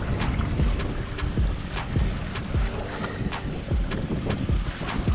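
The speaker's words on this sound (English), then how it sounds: "It's actually windier than I thought it was gonna be out here" Wind gusting across open water around a fishing boat on a shallow sand weed flat during late fall walleye fishing, a steady loud rush with repeated sharp knocks and slaps against the hull throughout.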